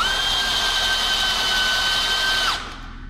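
A power drill drives a screw to mount a mini blind bracket, a steady close whine lasting a few seconds before spinning down abruptly.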